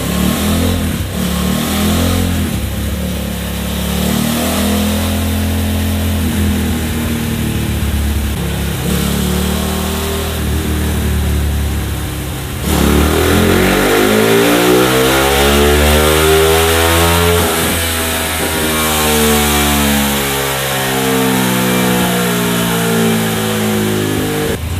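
A Honda Tiger motorcycle engine fitted with a BRT cam revs repeatedly on a dyno, loud and close, its pitch climbing and falling through sustained high-rpm pulls with no talking.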